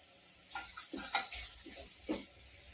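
Tomatoes with garam masala stirred and fried in oil for pav bhaji, giving a soft sizzle with a few scraping stirs of a spoon in the pan, close and fairly quiet, with no talk.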